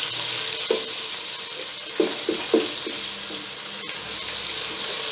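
Ginger-garlic paste frying with light-browned onions in a pan, a steady hiss and sizzle with a few soft stirring knocks and scrapes, close and continuous.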